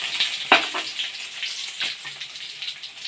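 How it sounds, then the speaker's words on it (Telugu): Mustard seeds, cumin, coriander seeds and dry red chillies fry in hot oil for a Telugu pickle, giving a soft, steady crackle with a few sharper pops close by and no talk. "ఆవాలు, జీలకర్ర, ధనియాలు అన్నీ వేస్తున్నాను. ఇవన్నీ బాగా వేగేదాకా వేయించుకోవాలి."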